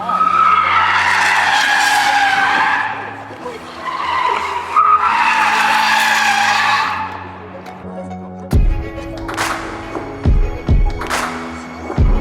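A loud Toyota Supra zips past with squealing tires and a high engine whine that swells twice, then sharp bursts and revs follow as it accelerates away.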